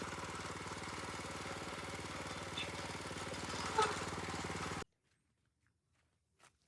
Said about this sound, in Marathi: तर आता आम्ही तर पार्किंगला लावलाय ट्रॅक्टर